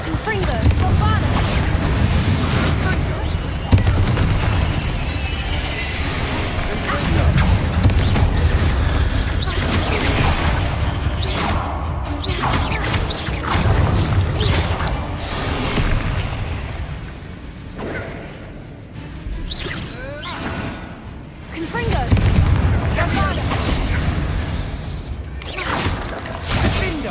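Spell explosions from the Confringo and Bombarda curses in Hogwarts Legacy burst as booming, crashing blasts with whooshes, layered with game music and effects across a continuously loud battle, with a voice speaking over parts of it.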